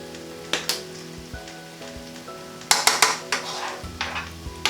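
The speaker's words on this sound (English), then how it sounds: "So we're just going to mix that all in so it's coating everything nicely" Metal spoon scraping and knocking against a pan while stirring dried thyme and cayenne into a vegan paella, a series of sharp clinks and taps over a soft sizzle and background hum.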